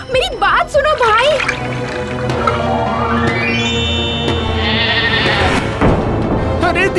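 A voice imitates a goat's wavering bleats alongside speech, followed by a rising tonal sweep and water-like splashing sounds.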